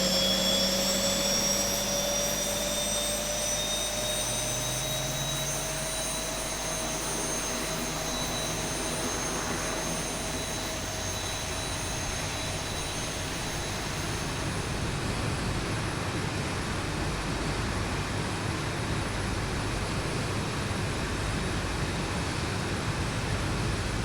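A Boeing 737-800 jet engine starts up in the X-Plane 11 flight simulator: a steady, loud turbine whine with rising tonal whistles over a broad rushing roar that fills the whole stretch, with no talking.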